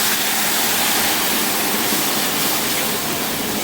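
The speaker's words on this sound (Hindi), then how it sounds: "देखिए इसमें पानी डाल रही हूँ।" Water is poured into semolina halwa flavoured with cardamom and desi ghee, making a loud, continuous rushing pour that holds steady from start to finish with no talking.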